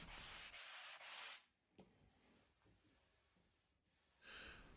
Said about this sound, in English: I gave the repaired edges a quick sand with the sanding sponge